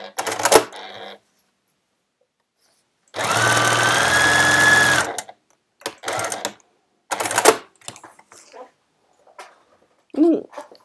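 Sewing machine stitching patchwork fabric made from cloth selvages into a greeting card, running in one steady two-second burst amid short clicks and handling noises, with quiet pauses between.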